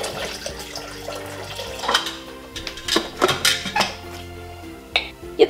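Berry liqueur liquid is poured back into a Thermomix TM5 mixing bowl, splashing and trickling close by. Clinks and knocks of the bowl and utensils come through in irregular bursts.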